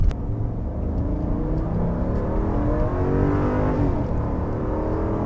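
A 2022 Jeep Grand Wagoneer SUV pulls hard from inside the cabin, its engine rumble and road noise rising steadily as speed builds, with no talking over it.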